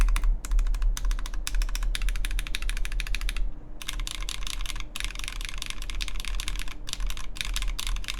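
Rapid, crisp keystrokes on a RAE Adamas 65% top-mount mechanical keyboard, close and steady, with bursts of fast typing and repeated backspace presses broken by a brief pause, over a low background hum.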